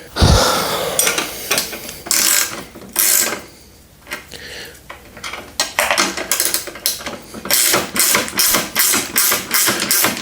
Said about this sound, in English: So this side I'm going to use the ratcheting part, and then this one I've just got a regular wrench